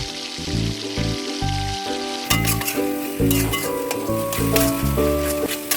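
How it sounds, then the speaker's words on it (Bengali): Masala seasoned with salt and turmeric fries in a pan with a steady, close sizzle and occasional stirring, beneath continuous background music. "এবার এর মধ্যে পরিমাণ মতন লবণ আর হলুদ দিয়ে ভালো করে কষিয়ে নেব মশলাটা"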